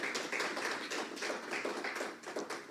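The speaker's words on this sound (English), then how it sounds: "Let's give Dr. Rampersad a round of applause." An audience applauds Dr. Rampersad at a university forum, a quiet, continuous patter of many hands clapping, heard faintly from a distance without speech.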